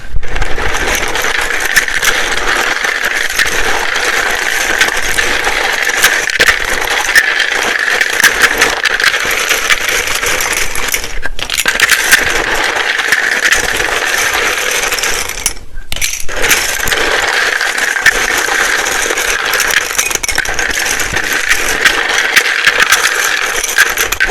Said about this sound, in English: It can be very loud when I shuffle these.